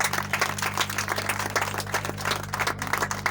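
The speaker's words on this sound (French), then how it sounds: "S'il vous plaît, applaudissons très fort pour cet enfant." Applause from a crowd at a funeral gathering, a dense, continuous patter of many hands clapping steadily throughout, with a low steady hum underneath.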